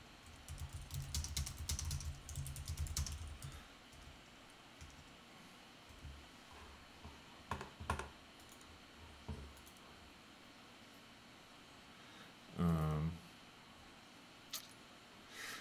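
Fingers tap on a computer keyboard in quick, uneven bursts, close and fairly quiet, with clicks thinning out into scattered keystrokes and a brief louder bump near the end.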